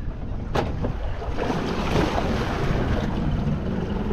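Small shrimp trawling boat on the water near Bayou La Batre, Alabama, its outboard motor bumped into gear, a steady engine rumble under heavy wind buffeting and the slosh of water.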